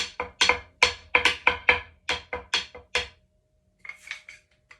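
A marching bass drum plays a quick run of even strokes that builds in the middle and drops to silence, then a few quieter hits follow.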